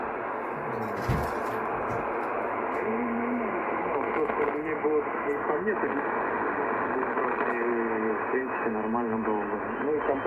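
A weak, distorted AM radio station picked up on a homemade loop antenna receiver, with garbled speech buried in hiss and warbling interference, steady and continuous throughout.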